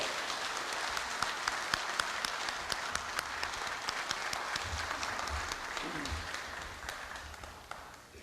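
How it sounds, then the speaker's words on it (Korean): Applause fills the hall as the president of Korea University is welcomed at the university's 110th anniversary ceremony, a steady wash of many hands clapping with a few sharper claps standing out and low murmurs beneath. "큰 박수로 염재호 총장님을 맞이해 주십시오"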